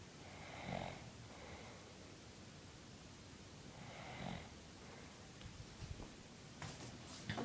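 A man snoring while sleeping on a camping trip in Hungary: two or three slow, drawn-out rasping snores spaced a few seconds apart, fairly close and steady, followed by some faint shuffling noises.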